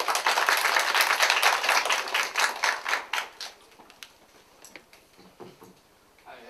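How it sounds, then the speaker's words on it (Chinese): A roomful of people at a press conference applaud to welcome a tax official, a dense clatter that thins into a few scattered claps before stopping. "让我们把时间用掌声一起来欢迎处长"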